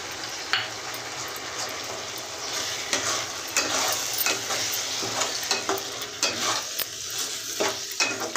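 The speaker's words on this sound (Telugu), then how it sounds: "ఒకసారి బాగా కలుపుకోవాలండి." A spoon scrapes and stirs through a thick mushroom curry with ground dry coconut in a pan, with irregular clinks and soft sizzling underneath.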